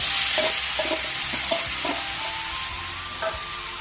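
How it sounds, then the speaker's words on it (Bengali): Marinated chicken sizzling in oil left over from frying potatoes, a loud close hiss with repeated clattering stirs and scrapes against the pan. "সেই আলু ভাজা তেলের মধ্যেই দিয়ে দিলাম ম্যারিনেট করা মাংস"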